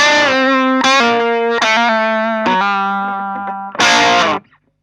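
An electric guitar plays through a Klon Centaur clone overdrive pedal with the gain up and output level raised, driving the amp; a few sustained, harmonically rich overdriven notes and a descending phrase ring out, ending in a loud chord.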